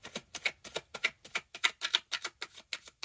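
A deck of tarot cards being shuffled gives a quick run of crisp, papery flicks and taps, about a dozen in an even rhythm, close and quiet.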